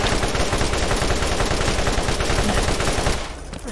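Rapid sustained gunfire from a 100-round magazine weapon in the Borderlands video game, a loud continuous automatic burst that cuts off near the end.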